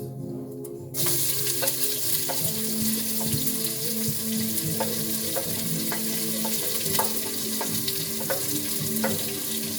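Onions and pepper frying in a pan on high heat, a steady close sizzle with scattered stirring clicks running throughout after a brief quiet start.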